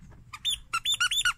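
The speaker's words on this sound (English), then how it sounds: "So I have to excuse the dog and a squeaky toy." A dog chewing a squeaky toy indoors produces a rapid series of high-pitched squeaks, about eight close, loud bursts in quick irregular rhythm with no talking.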